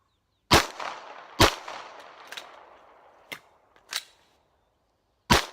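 Handgun shots fired during a shooting drill ring out as sharp, separate reports: two close together, a few lighter pops, then another shot after a pause, each trailing off into a short echo.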